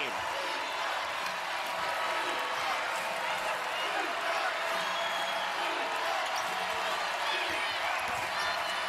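Crowd noise at a Louisville vs. Notre Dame women's college basketball game in an arena, a constant loud roar of fans with scattered clapping and squeaks from the court, play-by-play commentary running over it.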